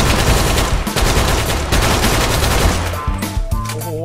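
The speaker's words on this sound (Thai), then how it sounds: "โอ้โหกระสุนแบบเขาเร็วเลย" Rapid gunfire from a weapon in Minecraft, a fast, dense burst of shots that runs continuously and loud for several seconds, with game music or tones entering near the end.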